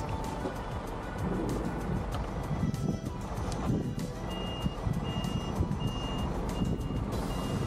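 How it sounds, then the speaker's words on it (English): A truck reverses on a farm in Wales to turn around, its reversing alarm beeping in a steady repeating rhythm over rumbling engine noise and wind. "I reverse back up to turn round as per the farmer's instructions"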